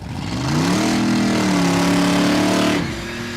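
A 505-cubic-inch Pontiac drag car weighing 4,710 pounds launches down a Kansas dragstrip, its engine rising into a loud sustained roar with climbing harmonics, holding the pitch for about two seconds before dropping away.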